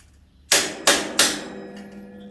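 Three sharp hammer blows in quick succession on a Monkey bike rack for an off-road trailer, loud and close, each ringing out briefly before the next.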